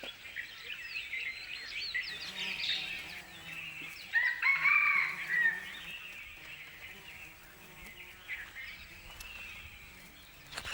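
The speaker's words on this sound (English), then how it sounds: "The jungle fowls search for seeds which may have passed undigested through the rhino's gut." Jungle fowl foraging at a rhino dung midden in Kaziranga National Park, India, with a moderately distant crow rising in the middle and soft clucking amid faint insect and bird ambience.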